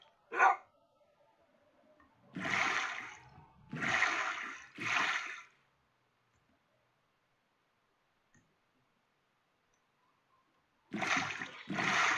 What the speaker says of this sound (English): oh, look, there's another dog.